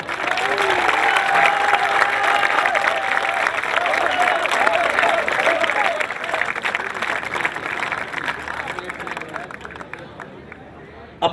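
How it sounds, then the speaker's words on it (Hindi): Applause and cheering crowd at an Urdu poetry gathering (mushaira) in Karachi, a dense continuous clapping wash with voices calling out over it, gradually easing toward the end. "एक बार अफकार अलवी के लिए तालियां।"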